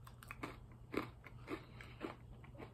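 Bites into crunchy Little Caesars pizza crust, a series of about five faint, evenly spaced crisp crunches close to the mic, with no talking.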